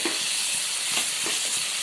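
Paneer, cashews and raisins frying in a pan give a steady, loud sizzle, with soft stirring scrapes and crackles rising now and then through the hiss.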